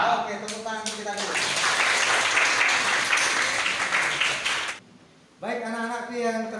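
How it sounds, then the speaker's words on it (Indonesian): Students in a classroom give a round of applause, a full, even burst of clapping lasting about four seconds, with a speaking voice before and after it. "tepuk tangan kita dulu"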